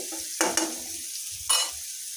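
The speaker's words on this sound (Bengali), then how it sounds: "পেঁয়াজ কুচিটা আমি ভেজে নিচ্ছি" Chopped onions fry in a wok, a soft continuous sizzle broken by a few sharp scraping stirs, near and fairly quiet, with no talking.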